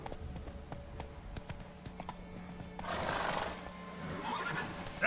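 In The Witcher 3, a horse whinnies and its hooves clip-clop. Soft footfalls come first, then a louder burst of neighing and galloping toward the end, with faint game ambience behind.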